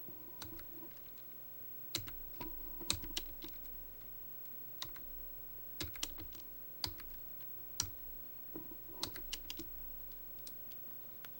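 Typing on a computer keyboard, scattered clicking keystrokes in irregular bursts with pauses, close and fairly quiet over a faint steady hum.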